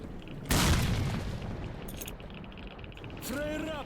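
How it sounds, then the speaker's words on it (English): A grenade bursts in the video game S.T.A.L.K.E.R. Shadow of Chernobyl: one sudden loud boom that rumbles off and decays over several seconds, followed by a short whooshing, warbling tail near the end. "Oh, no! Bad grenade!"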